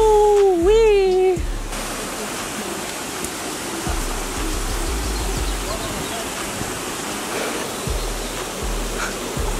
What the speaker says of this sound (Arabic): هذول الشلالات داخل الغابات نفسها